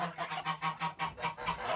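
Farmyard ducks give a rapid run of about eight rhythmic honking calls in quick succession, loud and close, with no voices over them.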